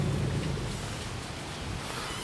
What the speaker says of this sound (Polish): W tle właśnie słychać te łódki, które